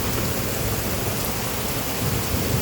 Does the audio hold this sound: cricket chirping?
no